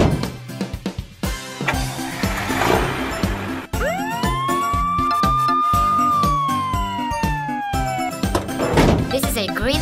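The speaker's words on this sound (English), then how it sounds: "This is a green ambulance car." After a busy jumble of toy music and clunks, a toy ambulance's electronic siren wails up and holds for several seconds, then fades into more toy noise.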